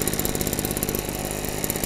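A backpack leaf blower's small two-stroke engine idles steadily after a fresh start, a close, continuous pulsing drone with a fast regular rhythm and no voices.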